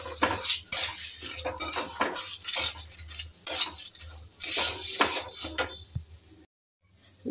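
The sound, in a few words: stirring lentils (dal) in a pot for khichdi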